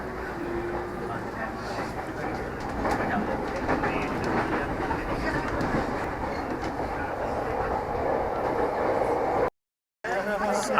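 Interior of an electric train in Japan in motion, a continuous rumbling ride with faint rhythmic clatter and hum, steady throughout, briefly cutting out near the end.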